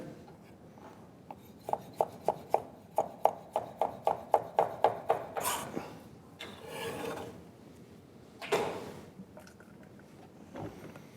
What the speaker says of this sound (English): So I want to just kind of roughly chop it.